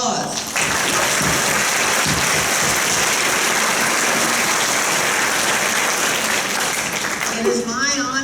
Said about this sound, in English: Let's give yourselves a hand of applause.